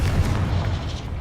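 A Confringo spell goes off in Hogwarts Legacy, a loud, dense low boom that rolls on for over a second amid the clamor of a magical duel.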